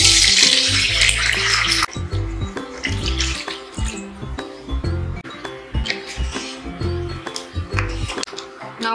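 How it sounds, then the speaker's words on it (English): Two cups of water pour into a metal pot with a bright splashing rush for about two seconds, followed by clinks and light kitchen clatter, while making jeera rice. "So I'm gonna add 2 cups of water from this."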